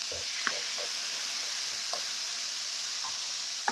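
Sauce being stirred briefly in a pan with oyster sauce for a Chinese beef stir-fry, giving a few light scraping clicks over a soft steady sizzle, fairly quiet and with no voices.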